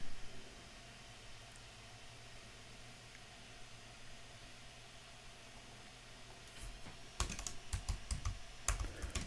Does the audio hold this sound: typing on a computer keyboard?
yes